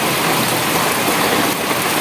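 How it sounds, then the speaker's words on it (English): Heavy rain pours down steadily in Matunda, a dense, loud, unbroken hiss of water hitting surfaces with no voices. "I think I also need to get inside now and leave the plants to enjoy the rains"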